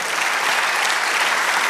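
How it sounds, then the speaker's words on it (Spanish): Church congregation applauding during a Spanish-language sermon, a steady dense wash of clapping from many hands, loud and continuous throughout with no break. "Dale un aplauso al Señor."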